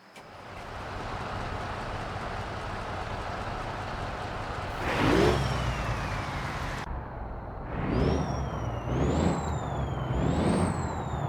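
A truck engine rumbles steadily in a trucking video game, joined midway by a loud air-brake hiss and then several rising and falling whistling tones over the continuous drone.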